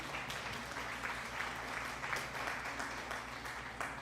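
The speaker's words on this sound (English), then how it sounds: "Why are you clapping?" Clapping from a small group of hands, an irregular patter of claps running steadily and fairly quietly through the whole stretch.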